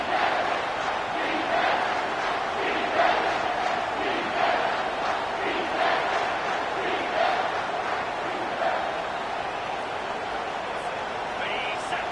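A football stadium crowd roars steadily at a big moment, a dense, continuous wall of cheering and chanting with no clear break, while a commentator talks over it.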